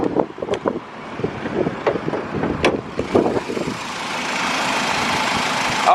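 A 1996 Pontiac Grand Am's 2.4 liter four-cylinder idles steadily, with clicks and bumps near the mic early on before it settles into a smooth, even hum with some wind noise.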